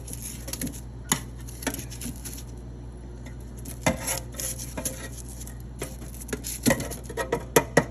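Baked potatoes being turned in an air fryer basket, with light clatters and metallic taps scattered through the clip, bunching into quicker knocks near the end; close and fairly soft, with no voices.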